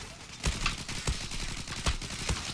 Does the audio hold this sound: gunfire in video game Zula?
yes